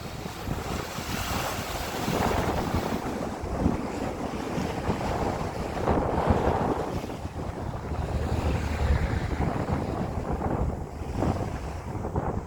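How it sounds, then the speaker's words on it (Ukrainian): Strong wind buffets the microphone over the steady wash of sea waves on an autumn seashore, a continuous roaring rush with no voices. "Не знаю, наскільки буде чути, але вітер сильний у нас. І хвилі."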